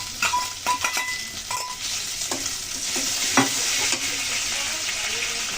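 Puti fish tipped into a pan of lightly fried onions, a loud steady sizzle with repeated metal scraping and clinking of a spatula as everything is stirred, no talking.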